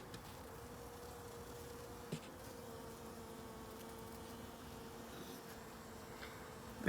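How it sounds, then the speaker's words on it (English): Honey bees hum around an open beehive during an inspection, giving a steady, soft drone with a few faint louder buzzes as bees pass close. "That's a lot of bees."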